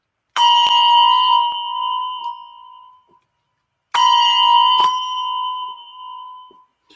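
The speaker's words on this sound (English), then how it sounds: "Echo is where we just touch the lip of the bell into the foam." Two handbells struck in the echo technique, each lip touched into foam: two bright ringing tones with sharp onsets a few seconds apart, each sustaining and decaying, with a quick damped touch sound shortly after each strike.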